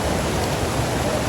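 A waterfall gives a dense, steady broadband roar of falling water, loud and continuous throughout with no break.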